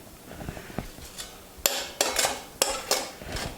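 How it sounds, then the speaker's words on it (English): Spoon stirring a crushed-ice drink in a glass, a few sharp clinks and scrapes in quick bursts, fairly close and alone. "We're going to give that a little stir."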